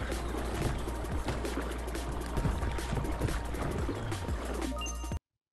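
Paddle strokes churn and splash through flowing water in the virtual reality kayaking game Kayak VR: Mirage, a continuous close rushing wash with rhythmic dips, cutting off abruptly at the end.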